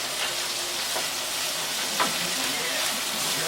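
Capsicum sautes in three to four tablespoons of oil in a pan over high flame, a loud continuous close sizzle with a faint stir or scrape around the middle.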